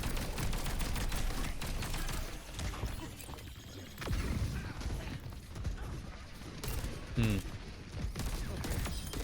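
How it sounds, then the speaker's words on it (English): Rapid bursts of gunfire in the video game Overwatch crackle in quick volleys alongside clanking ability effects, with players talking over the action throughout. "Good that we're shooting the Kiriko here."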